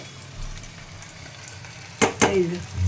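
Fritters (bora) frying on high flame in a pan, giving a steady sizzle with two sharp clatters near the end as they are turned or dropped in.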